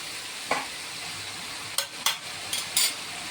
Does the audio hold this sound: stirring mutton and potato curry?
yes